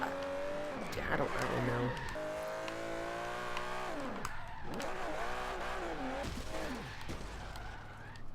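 An Aston Martin Vantage GT12 in Forza Horizon 3 drifts, its engine revving up and down in wavering, rising and falling sweeps with tire squeal, while a player talks over it.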